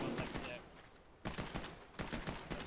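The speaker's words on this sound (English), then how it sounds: "Shots coming from southwest." Gunfire in the military simulator Arma 3, rapid bursts of shots in three clusters, fairly faint and sounding far off, with voices talking over them.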